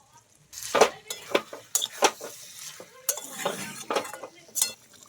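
Chicken and chickpeas sautéed with chana masala in a pan, with irregular close spatula scrapes and clinks against the metal and a soft sizzle between them.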